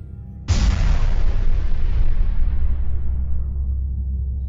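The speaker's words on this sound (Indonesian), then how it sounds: "tiba-tiba terdengar suara ledakan dari arah luar rumah yang mengagetkan semuanya" A sudden loud explosion bursts in after a brief quiet, then a long rumbling roar slowly decays, heavy and booming, standing alone as a horror-story effect.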